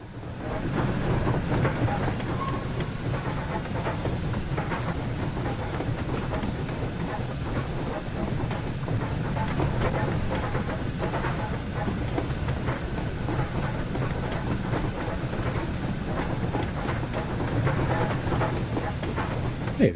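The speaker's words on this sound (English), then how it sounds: "It's not a steam engine without clanking." A steam locomotive in the Just Trains West Coast Main Line train simulator, Preston to Carlisle route, rolls along loudly with continuous rhythmic clanking and clickety-clack over the rails, steady throughout, under a hissing background.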